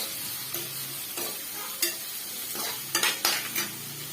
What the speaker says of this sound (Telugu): ఆనియన్ బాగా వేగిందండి. ఇప్పుడు టమోటాస్ వేయాలి.